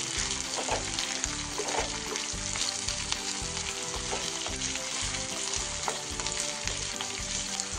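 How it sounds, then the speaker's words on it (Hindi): Onions for Kashmiri rogan josh frying in oil in a pan, a loud continuous sizzle with rhythmic scraping as a spoon stirs them over and over. "अच्छे से फ्राई करेंगे ताकि जो हमारा प्याज है वो ब्राउन हो जाए"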